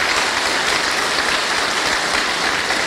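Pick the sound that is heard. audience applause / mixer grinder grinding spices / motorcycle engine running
audience applause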